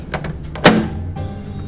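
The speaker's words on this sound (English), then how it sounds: "close the microwave." A single solid thunk of a microwave door shutting near the middle, followed by a faint hum of the room.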